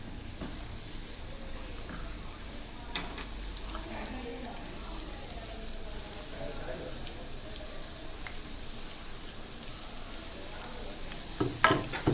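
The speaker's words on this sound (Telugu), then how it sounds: "ఇప్పుడు ఉల్లిపాయలు వేసుకున్నా" Onions fry in a pan for a prawn curry, giving a steady, moderate sizzle with occasional stirring scrapes and utensil clinks near the end.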